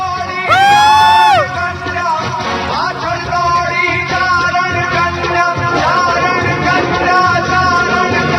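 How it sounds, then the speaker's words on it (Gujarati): A large crowd at a primary school annual day function cheers and claps steadily, with a loud high whistle or whoop near the start and sustained crowd noise throughout. "જબરજસ્ત તાળીઓના ગગડાટથી વધાવીએ"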